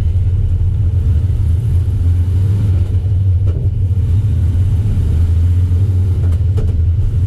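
VW Beetle (Käfer) driving with its engine running, a loud, steady low rumble with a faint rattle, continuous from near inside the car with no talking.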